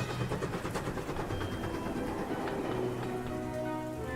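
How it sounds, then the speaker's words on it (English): Heavy rain pours down steadily, a dense continuous wash of drops without pause, with faint rumbling that may come from a steam engine or train nearby. "the rain started pouring."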